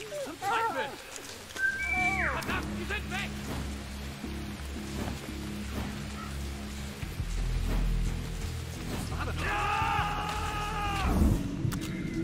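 A character's whistle to lure a guard in the war strategy game War Mongrels, sounding as a few short tonal whistles amid game ambience, with someone talking.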